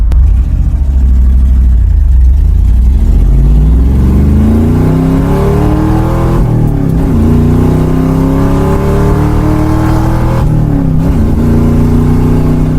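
A 1966 Ford Mustang vintage racing car revs hard while driving, its engine climbing in pitch through repeated gear shifts with brief dips between, loud and close inside the car for about thirteen seconds.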